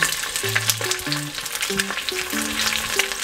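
Herring sizzles and spits steadily in a frying pan as it cooks for a herring and pumpkin pie, a dense continuous crackle with soft background music notes.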